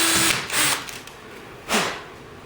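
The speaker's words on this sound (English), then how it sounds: "I've got the depth marked with this electrical tape on here, so I know how far that I'm going to drill down." A power drill bores into an ATI Strikeforce stock for an AK-47 (AKM) rifle in three short, loud whirring bursts with brief pauses between.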